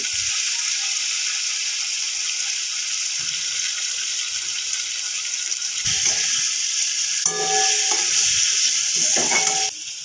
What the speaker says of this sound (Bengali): আমার এখানে আলুটি ভাজা হয়ে গেছে